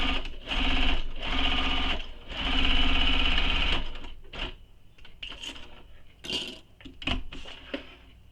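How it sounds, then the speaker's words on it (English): Sewing machine running a long basting stitch across fabric for a bowler bag, two sustained bursts of rapid needle chatter, then scattered clicks and rustling handling noises, close by, with no talking. "Now let's stitch across this using the seam allowance given in the pattern."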